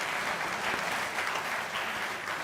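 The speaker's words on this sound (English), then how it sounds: "A big round of applause," Steady, dense applause from an audience at the opening of a 24-hour national-level engineering college hackathon, a continuous wash of many hands clapping at even loudness throughout.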